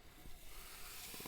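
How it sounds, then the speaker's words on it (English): Brief, soft sizzling hiss of steak cooking on a hot grill, steady and close with a few faint pops. "Let's hear that sizzle."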